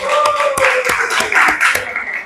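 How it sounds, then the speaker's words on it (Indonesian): Classroom students clapping together in a short burst of sharp, rhythmic claps, roughly evenly spaced, loud and close, with some voices mixed in. "Boleh tepuk tangan sekali lagi buat kalian."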